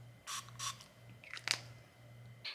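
A Beekeepers Naturals propolis throat spray pump clicks and spritzes a few times, short faint mechanical pumps close to the microphone in a quiet room.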